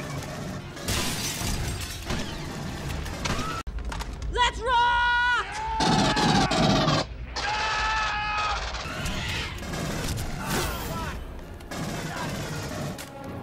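Gunfire and shattering bursts come from an Aliens: Colonial Marines shootout, loud clustered shots mixed with screeching alien cries and game effects, with voices speaking in places.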